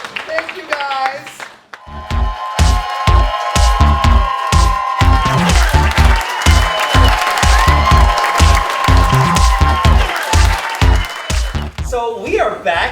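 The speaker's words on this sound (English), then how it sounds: "Give them a round of applause!" Round of applause at a camp competition show, a steady run of loud, closely spaced claps with cheering voices over it, rising after a brief opening of talk and fading back into speech at the end.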